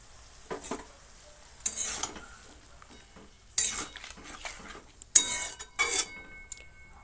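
Spinach, half-boiled potato and cut brinjal are stirred together in a pan over a faint sizzle. A metal spoon scrapes and clinks against the pan in uneven bursts, close and clear.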